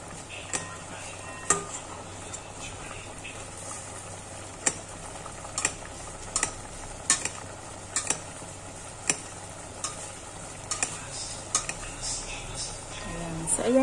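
Paksiw na bangus (milkfish) with a little oil being stirred in a pan, a soft simmering hiss broken by sharp clicks and taps of a utensil against the pan at irregular intervals, close by.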